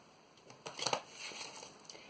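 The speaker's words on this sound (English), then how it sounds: "Now I'm gonna shuffle the cards for the reading." Tarot cards shuffled by hand for a reading: a quiet, brief flurry of soft papery riffles and flicks in a still room.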